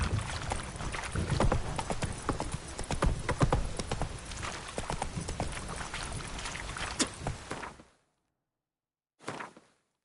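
Roach the horse in The Witcher 3 walking, steady rhythmic clip-clopping hooves up close for about eight seconds, then silence and one brief final burst.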